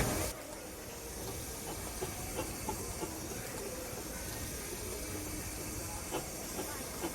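A steamroller at a steam rally idles while preparing to crush cans, giving a steady background hiss of steam with faint mechanical knocks amid distant crowd murmur and brief muffled voices.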